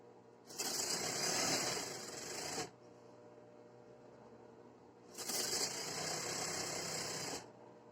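A sewing machine stitches a seam along the edge of strips for women's trousers, running in two bursts of about two seconds each with a quiet pause between them, nearby and without speech.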